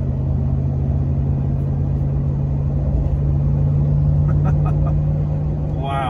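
A 2021 Ram 1500 TRX pickup cruising on a paved road gives a steady, close engine rumble and low drone with road noise that holds level the whole time, with faint talk inside the cab.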